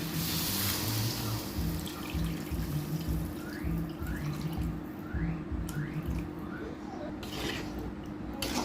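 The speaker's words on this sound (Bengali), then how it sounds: "এখন এর ভিতরে দিয়ে দেবো সেদ্ধ হওয়ার জন্য পানি" Water is poured into a pan of sautéed potato for egg-and-potato curry, giving a continuous splashing pour close by over a steady hum, with no talk.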